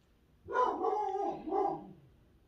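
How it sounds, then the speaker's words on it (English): A dog named Jackson gives a couple of quiet, drawn-out barks indoors, soft and somewhat distant, with silence around them. "That's my dog Jackson barking at something."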